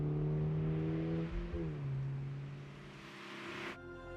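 A Subaru BRZ sports coupe engine hums steadily, then its pitch shifts as it revs past 3,500 RPM, ending with a sudden whoosh of acceleration.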